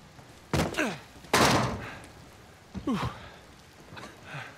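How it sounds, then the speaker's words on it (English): In Uncharted 4, a heavy gear bag drops and thumps down in a few dull, soft impacts with shuffling and brief rustles between them. No one speaks. "Toss down your gear."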